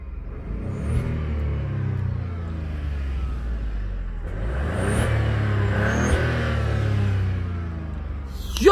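A car engine revs hard from inside the cabin, its tone climbing through repeated pulls with a deep rumble and a faint turbo whistle on top, loud and close with no talk.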